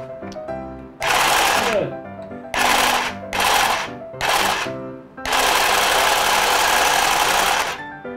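A troublesome household sewing machine runs in several bursts, loud and close: a short run, three quick stop-start stitching spurts, then a longer continuous run, with brief pauses between.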